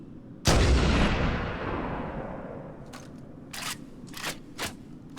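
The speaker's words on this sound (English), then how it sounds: "try and clear a lot of the path of enemies using the sniper rifle" A loud sniper rifle shot rings out in Halo: Combat Evolved, its boom trailing off into a long echoing tail, followed by several sharp, short clicks and clacks of the weapon being handled.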